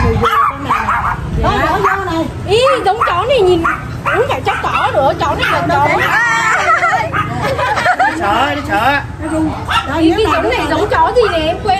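A dog barks and yips repeatedly at a house in Ninh Thuận, loud and close, while several people talk over and around the barking throughout.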